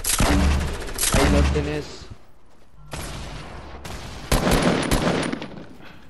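Bursts of automatic gunfire in a Fortnite match, rapid volleys crackling loudly near the start and again later, with players talking excitedly over the shooting.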